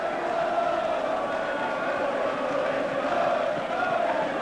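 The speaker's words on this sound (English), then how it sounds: "that Rovers crowd now, delighted with that" A Hull KR Rovers rugby league crowd roars after a try in the John Player Trophy semi-final against Halifax, a steady, dense wash of stadium noise sustained throughout.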